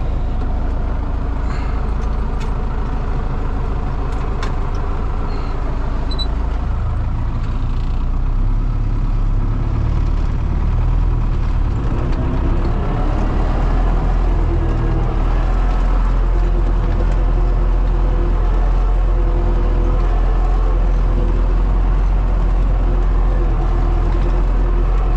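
A Lada Desyatka car engine runs steadily while driving, a loud continuous low rumble with road noise throughout and faint background talk.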